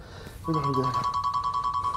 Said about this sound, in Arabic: خليني ارد على التليفون